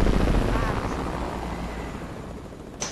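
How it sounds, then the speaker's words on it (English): A helicopter approaches in the video game Fortnite, a loud, dense rotor rumble that fills the whole clip and eases slightly toward the end, with a short sharp burst at the close. "Helicopter, incoming helicopter."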